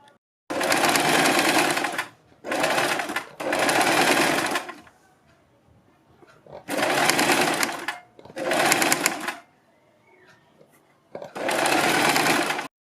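Sewing machine running in loud bursts while stitching pleated frill strips onto a frock suit, five separate runs of steady whirring with short quiet pauses between them.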